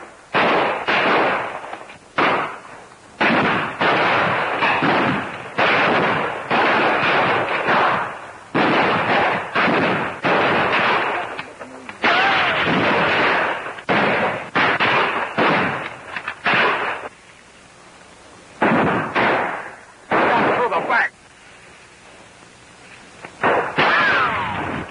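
Rapid volleys of rifle and gun shots in a 1935 film battle scene. The sharp, loud cracks come repeatedly in clustered bursts with brief pauses, and there is no talk.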